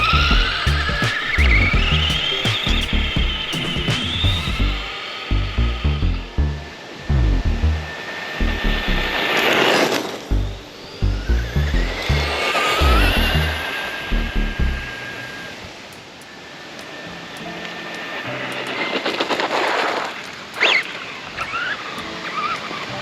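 A Bandit XL5 brushless RC buggy on a 3S battery, geared for dirt, makes max speed passes, its electric motor whining up in rising pitch sweeps as it approaches and recedes, with gravelly tire scrabble and wind, loud and close at times.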